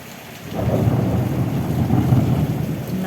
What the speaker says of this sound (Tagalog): Narinig nyo po yun. Mga kulog.